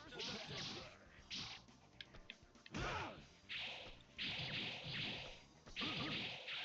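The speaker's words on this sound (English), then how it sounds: "Adamantium Wolverine has a heavier thud to the sounds of his claws impacting with his opponent" Heavy, thudding claw impacts from Adamantium Wolverine striking an opponent in a MUGEN fighting game, arriving as a rapid series of loud hits with metallic swishes and short gaps between bursts.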